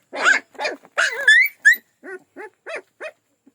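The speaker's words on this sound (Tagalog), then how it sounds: "itong lahing tinatawag na saanen dog" Young puppies yelp and whimper up close, a run of short high squeaky cries and little barks that grow softer and more spaced toward the end.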